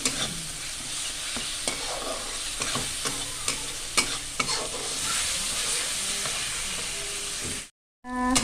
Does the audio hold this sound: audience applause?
no